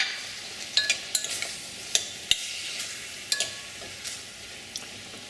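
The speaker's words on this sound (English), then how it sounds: "We're going to give this a mix." Garlic and gochugaru are stirred in a pot for Korean kimchi stew, with a light sizzle underneath and a series of sharp scraping clinks from the utensil at irregular intervals, close by and without talking.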